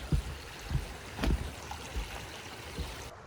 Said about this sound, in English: Here is where the river flows through the village.